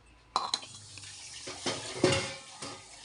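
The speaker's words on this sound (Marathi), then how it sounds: "2 मिनटं मला भांडे नको घासून" Pots and dishes are being scrubbed and handled at a sink, with several sharp metallic clanks and scraping knocks spread irregularly over a soft background of running water.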